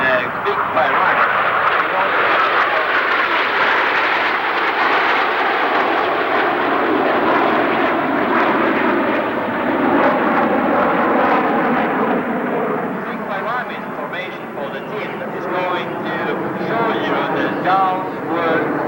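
Italian Air Force Frecce Tricolori jets roar through an aerobatic display at the 1992 Westover Airshow, a loud, sustained engine rumble that swells and slowly shifts as the formation passes overhead.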